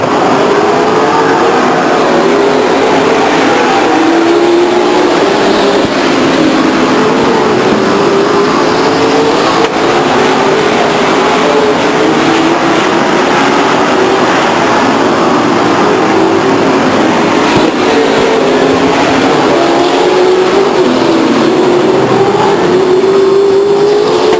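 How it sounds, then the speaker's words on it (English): Race cars roar continuously around the Stockton 99 Speedway oval in 1999. The dense engine drone rises and falls as the pack passes, loud and unbroken throughout, with no talk over it. "A spin by Dan Dabbs in turn number 4. He'll let the leader go by"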